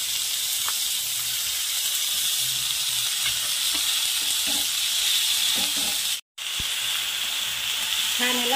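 Onion greens sizzle in hot oil with turmeric for a toor dal dish, a steady close frying hiss with occasional faint stirring clinks and a brief dropout.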